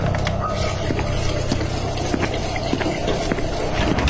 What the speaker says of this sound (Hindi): तभी बाथरूम से पानी की आवाज आती है